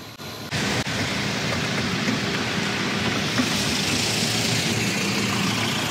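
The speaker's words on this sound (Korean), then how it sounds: "모터가 좀 돌아가는 소리 조금은 들리긴 하는데" Steady broadband whir of a small fan motor running inside a cooling air jacket, constant and fairly close, with no talking over it.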